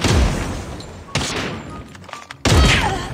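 Sniper rifle shots in Call of Duty Mobile, with two or three loud, sharp reports spaced about a second apart, each followed by a decaying rumble.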